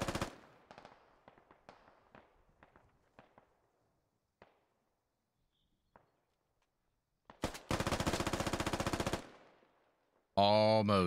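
Bursts of gunfire in the military shooter Squad: a volley of sharp distant shots, then sustained loud automatic fire for about two seconds, ending in a harsh burst close by.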